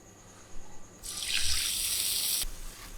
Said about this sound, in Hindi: और आधा कप हम इसमें पानी शामिल करेंगे।